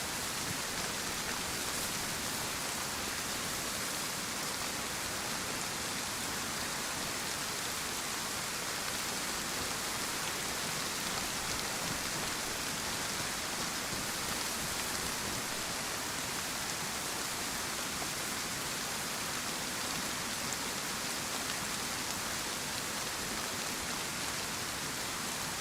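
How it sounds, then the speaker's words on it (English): Steady, even rain falls through a Pacific Northwest forest, a dense unbroken hiss that holds at the same level for the whole stretch with no voices or other sounds. "The rain is tough."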